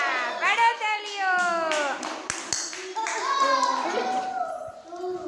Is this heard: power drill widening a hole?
no